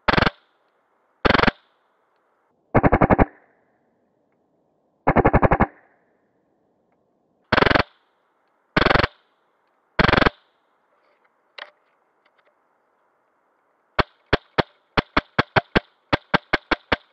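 An Inferno Gen2 HPA airsoft gun fires in sharp, loud bursts: seven short full-auto strings spaced a second or two apart, then a rapid run of single shots at the end, with silence in between.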